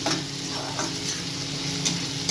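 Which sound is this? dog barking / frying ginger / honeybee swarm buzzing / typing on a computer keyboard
frying ginger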